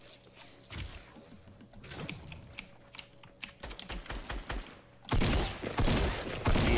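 Sharp bursts of gunfire in a Fortnite fight, a few quick shots then a louder sustained blast near the end, layered over steady keyboard typing close by.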